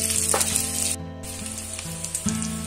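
Onions fry in a pan over a medium flame for a malai pyaz sabji, a steady close sizzle with a brief hush near the middle, low hum and occasional utensil clinks beneath.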